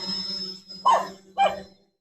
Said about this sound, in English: we get rid of this damn dog barking over here